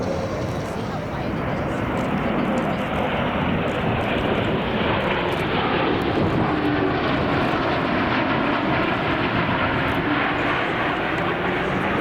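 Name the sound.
low-flying aircraft passing by show center at an air show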